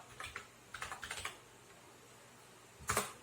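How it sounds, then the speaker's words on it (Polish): Typing on a Genesis computer keyboard: two quick clusters of close, crisp key clicks, a pause, then a final louder burst of keystrokes, with no talking. "Czy ta klawiatura działa?"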